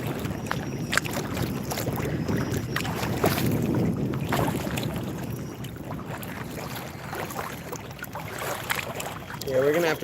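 Strong wind buffets the microphone on a lake from a small boat, a constant rough roar with water sloshing underneath, continuing without a break.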